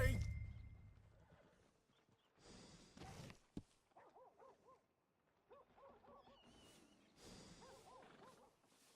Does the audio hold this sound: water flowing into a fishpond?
no